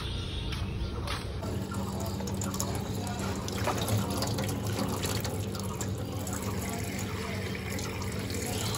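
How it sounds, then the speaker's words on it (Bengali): Water drawn from a tap at a fuel pump station, a steady broadband rush of running water for the whole stretch with outdoor background noise and faint traffic rumble underneath. "এখানে জল আছে, তাই জন্য এখান থেকে জল নেব।"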